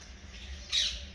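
Desi pigeons in a loft give a single short, harsh squawk over faint background hiss. The call is brief and moderately close, with no talking.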